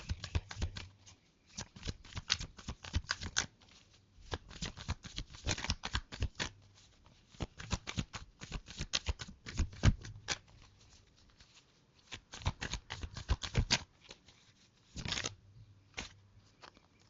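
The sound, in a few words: tarot cards being shuffled and drawn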